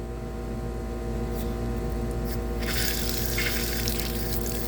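Air and water sputter and hiss out of a repaired outdoor faucet, a steady pump-like rumble beneath that bursts into a louder, rushing spray partway through, close and continuous with no talking.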